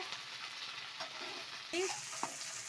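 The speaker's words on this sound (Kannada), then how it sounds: "ನೋಡಿ ಈ ಥರ ಎಣ್ಣೆಯಲ್ಲೇ ಫ್ರೈ ಮಾಡ್ಕೊಬೇಕು ಅವಾಗ ಜಿದ್ದಾಗಲ್ಲ ಬೆಂಡೆಕಾಯಿ" Okra frying in oil in a pan, giving a soft continuous sizzle with occasional stirring knocks and a brief louder scrape near the end, no speech.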